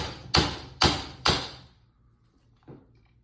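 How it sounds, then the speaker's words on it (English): Three sharp, evenly spaced hammer taps drive a roll pin out of a rifle trigger guard, close and distinct, followed by a pause and one softer knock. "On this row pin right here, we're just going to tap it out"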